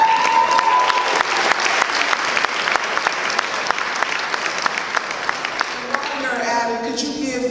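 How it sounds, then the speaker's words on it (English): An audience in Omaha gives sustained applause at an award event, a dense wash of many clapping hands at a steady level, with cheering and voices rising toward the end. "please give yourselves a round of applause"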